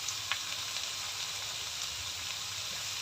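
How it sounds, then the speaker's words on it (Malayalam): Sliced onions sautéing with salt in a pan make a soft, even sizzle that holds at moderate volume throughout, with a couple of light stirring taps early on and no voices. "കുറച്ച് ഉപ്പിട്ടിട്ട് നന്നായി ഒന്ന് വഴറ്റിയെടുക്കാം"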